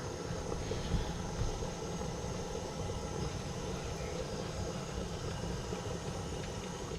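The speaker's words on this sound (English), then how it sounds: "sometimes I forget how quickly that jet boil will boil water." A Jetboil camping stove burns steadily as it boils water, set up in an Xterra on a cold west Texas night, giving a constant, close, even roar with no talking.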